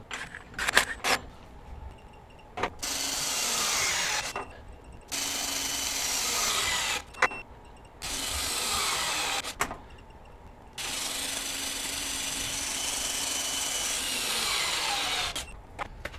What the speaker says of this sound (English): This should be pretty difficult for the little impact driver.